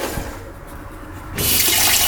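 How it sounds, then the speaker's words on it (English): Water rushes from a faucet inside a camper van, a steady hiss that surges louder partway through, with no talking. "Look at that, running water."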